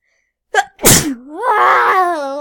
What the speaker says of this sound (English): That's the true sneeze of rage, guys.